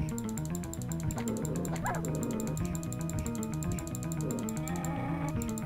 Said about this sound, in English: I hear you, dogs.